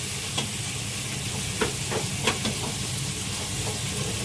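Sliced onions and green chillies fry in hot oil, giving a steady loud sizzle and hiss with a few scattered pops and stirring clicks throughout, and no voices.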